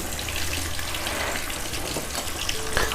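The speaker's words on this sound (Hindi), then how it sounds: "बस हम थोड़े डाल के इसको करेंगे फ्राई, ज़्यादा नहीं डालेंगे।" Fish fries in shallow oil over a medium flame for a spicy Lahori-style fish fry, giving a dense, even crackling sizzle close up with no pauses. No one speaks.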